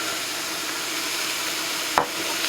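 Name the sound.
breaking up ground beef frying in cast iron Dutch oven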